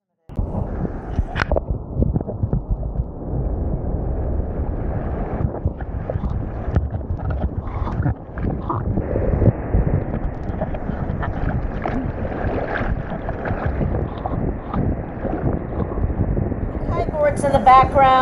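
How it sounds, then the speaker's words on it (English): Steady wind rumbles and buffets the microphone outdoors at Tourmaline Surf Park, San Diego, with a low, restless whoosh persisting throughout and faint sounds of small waves beneath. "it's a windy day, so it's a windy day with teeny tiny waves"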